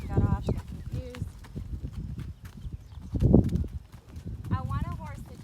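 A mare walks in an arena, her hooves making a steady, close clip-clop rhythm while a person talks over it.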